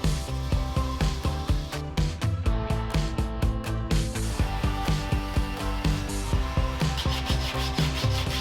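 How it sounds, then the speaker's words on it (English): Rhythmic scraping of sandpaper rubbed back and forth over wood by hand, in quick repeated strokes, close and steady with no talking. "This one is a little bit more tiring and tedious sanding"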